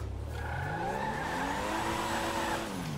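A heavy car in GTA 5 revs loudly while its tires squeal and skid, the engine pitch sweeping upward in one continuous sustained roar with no speech over it.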